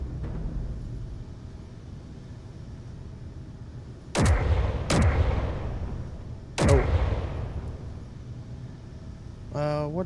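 Weapons firing in the video game Space Engineers: three sharp, loud broadband blasts, the first two close together and a third a couple of seconds later, each trailing off into a low rumble over a steady engine-like drone.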